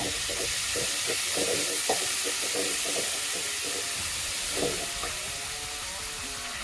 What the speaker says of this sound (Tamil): இந்த தக்காளி நல்லா வதக்கிக்கோங்க ஓரளவுக்கு தக்காளி நல்லா வதங்கட்டும்